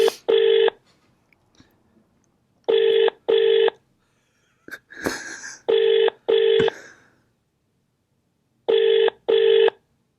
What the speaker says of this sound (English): I'm ringing the house.